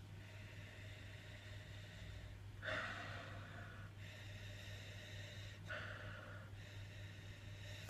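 Two short, breathy sniffs of a Doppelbock beer a few seconds apart, close to the mic, over a steady low hum.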